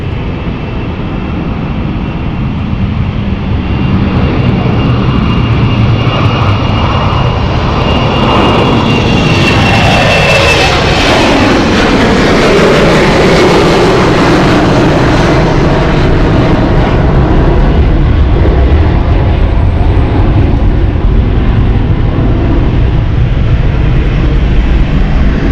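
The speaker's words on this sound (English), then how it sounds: "So Frankfurt Flight heading out right now." City Flyer jet taking off from London City Airport bound for Frankfurt, a loud sustained engine roar that builds and sweeps past mid-clip, then rumbles on heavily with a dense low thunder, no talking.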